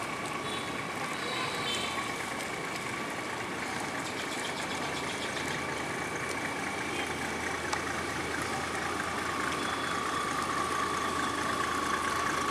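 A small boat engine chugs steadily while the boat travels along a narrow canal, a continuous, fairly faint mechanical drone with no change in pace.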